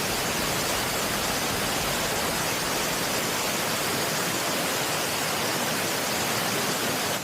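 Small waterfall in full spate at Kaas Plateau, a steady, loud, unbroken rush of falling water close by with no other sounds.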